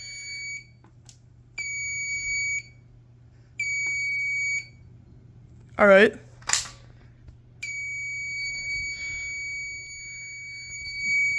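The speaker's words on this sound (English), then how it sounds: "The buzzer sounds a little weird." A fire alarm control panel's high electronic buzzer beeps in repeated long tones with gaps between them. A sharp click and a brief spoken remark come in the middle, over a steady low hum.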